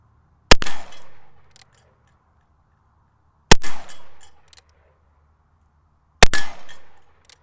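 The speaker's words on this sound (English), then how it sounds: "First shot's in 45 Colt. Hit the target anyway." Three loud gunshots from a Remington carbine in .45 Colt crack at roughly three-second intervals, each followed by a ringing clang from a struck steel target and a fading tail.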